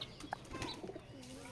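Wild pigeons, a pair of forest doves raised at home, coo softly in a few short, low calls amid light rustling and a brief flutter of wings, fairly close, with no talking.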